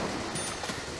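Steady rain hiss with a low rumble of thunder in the video game Deadly Premonition, a continuous wash of sound through a brief moment with no talking.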